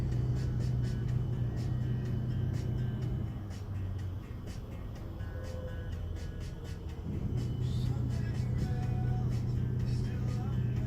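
A 2018 Acura RDX creeps through stop-and-go traffic, its close, steady low rumble of engine and road noise briefly easing in the middle before swelling back.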